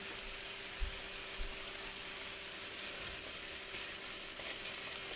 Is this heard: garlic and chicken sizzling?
yes